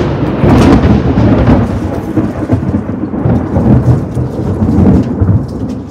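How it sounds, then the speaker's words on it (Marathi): Heavy thunder rumbling during a storm in a Konkan village, deep loud rolling booms over a noisy rainy background with no talk. "विजा बऱ्याच कडकडत आहेत"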